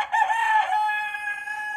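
A rooster crows once, near and loud, the call rising then holding a long drawn-out tone that fades slightly toward the end, with no other sounds around it.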